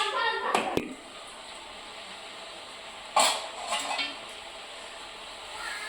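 Mawa is stirred into carrot halwa (gajar halwa) in a pan, with a few sharp metallic clinks and scrapes of a spoon against the pan separated by quiet pauses, close by.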